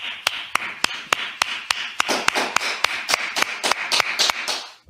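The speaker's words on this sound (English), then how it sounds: "clap it up" Audience members at a church brotherhood class clap in a steady, even rhythm of about four sharp claps per second, growing fuller and denser toward the end.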